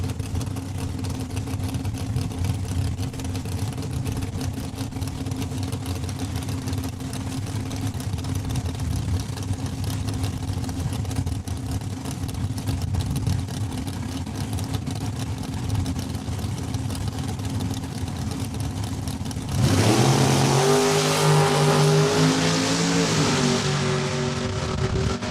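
A 1972 Dodge Dart drag race car at Saskatchewan International Raceway rumbles at a steady idle for a long stretch, then snaps into a loud rev with rising, wavering engine pitch near the end.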